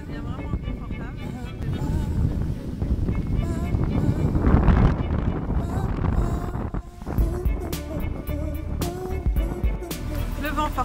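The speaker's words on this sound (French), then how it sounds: "Le vent forcit un peu" Gusting wind buffets a sailboat motoring at sea on the Mediterranean between Tunisia and Sardinia, a steady broadband roar with water wash and hull noise that swells louder midway, dips briefly, then picks back up.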